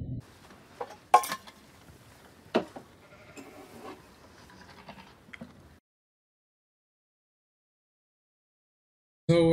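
Sheep bleat inside a barn in a film scene, several scattered cries with clinks and rustling at moderate distance, followed by a long silence.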